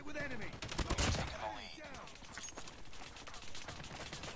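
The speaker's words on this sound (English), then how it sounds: "Being shot at." Rapid bursts of automatic gunfire in the Call of Duty Mobile shooter game, loud and dense at the start, then a steady rattle of shots continuing throughout.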